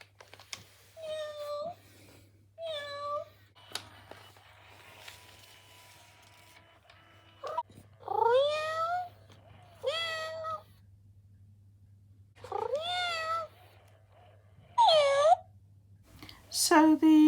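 Electronic toy cats, a Joy for All tabby and a FurReal Friends Persian, give a series of separate meows, each short and slightly mechanical, with quiet pauses and faint whirring between them.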